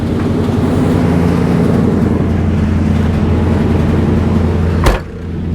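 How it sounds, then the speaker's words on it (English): A 1990 Chevy Caprice box-body donk revs hard indoors during a burnout, its engine holding a loud, steady roar for nearly five seconds before cutting off abruptly and falling away. "it's been brought to my attention that I have not done a proper burnout in here for a while"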